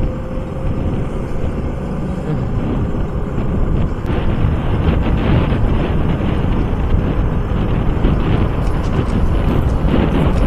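A motorbike on the road from Kolkata to Mahishadal is ridden fast, heavy wind buffeting the microphone over a steady engine roar, loud and continuous without speech.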